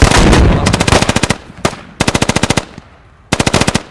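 Machine gun fire in the tactical shooter game Squad, loud rapid bursts of closely spaced shots separated by short pauses, with one isolated shot between bursts.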